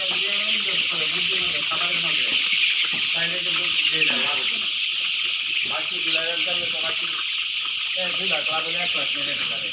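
Brown cock hens on a small poultry farm of about two thousand birds cluck repeatedly in overlapping bursts, close and continuous over a steady hiss of shed noise, with a person talking intermittently among them.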